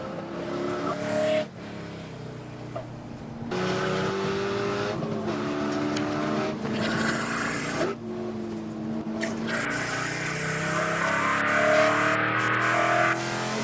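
Spec Corvette race cars roar around Buttonwillow Raceway Park, loud onboard engine note rising and falling through gear changes and revs, with tire squeal and other cars passing close during a Sunday race.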